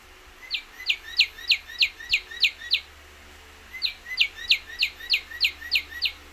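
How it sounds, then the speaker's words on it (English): A noise-making cardinal bird plush toy gives two bursts of rapid chirps, about seven or eight evenly spaced high tweets each, separated by a short pause, close and clear over a quiet room. "I got a little noise-making cardinal bird plush"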